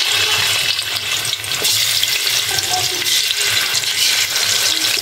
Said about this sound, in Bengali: কড়াইতে তেলটা গরম হয়ে গেছে, এখন আমি মাছগুলো দিয়ে দেবো।